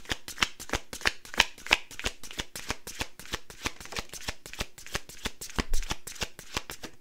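A deck of tarot cards is shuffled up close, a steady run of crisp riffling bursts and slaps repeating quickly and evenly, with no talk over it.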